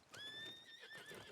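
Horse in the video game Red Dead Redemption 2 neighing, a clear rising and falling whinny lasting about a second, close and alone with faint hoof clip-clops.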